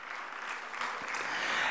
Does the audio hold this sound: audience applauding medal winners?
yes